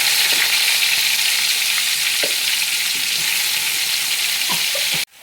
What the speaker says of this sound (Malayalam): ഓയിൽ സവാള നന്നായിട്ട് ബ്രൗൺ കളർ ആവുന്നത് വരെ വഴറ്റിയെടുക്കണം